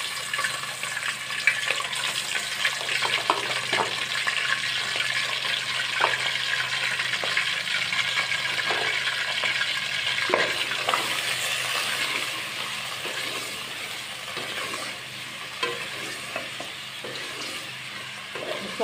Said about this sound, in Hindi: तो अब इसी ऑयल में ये बीफ को थोड़ी देर फ्राई कर लेते हैं।